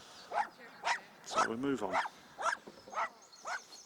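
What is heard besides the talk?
dogs barking in the distance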